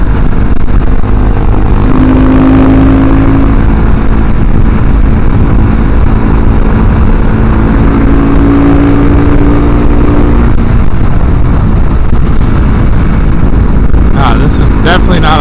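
A Husqvarna 701 motorcycle engine drones steadily while riding, with wind rush throughout and a rising and falling engine tone, as a rider talks over it.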